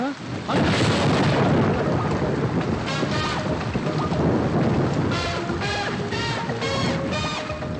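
Heavy rain pours in a steady, loud roar, with short bursts of voices cutting through the downpour toward the end.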